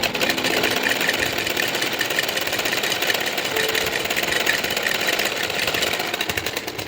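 A sewing machine stitching salwar cloth runs steadily and close for the whole stretch, a dense continuous mechanical whir with no pauses and no talk.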